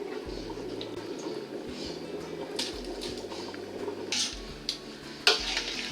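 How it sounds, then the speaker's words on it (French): A spoon stirring minestrone soup with beans and bay leaves in a pot, a soft continuous liquid churning with a few light clinks against the pot near the end, no talking. "Donc là, on remélange bien une dernière fois."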